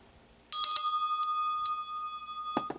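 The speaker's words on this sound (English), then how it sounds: "I love bells, don't you?" A bell rings sharply and close by, with a cluster of quick strikes and then a long, clear ringing tone that slowly fades before a soft final tap.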